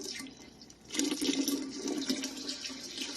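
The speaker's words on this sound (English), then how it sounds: "and then we're going to add 3 quarts of water." Three quarts of water pour into a big cooking pot of lemon juice for peach lemonade concentrate, a rushing, splashing stream that swells after a quiet start and runs steadily to the end.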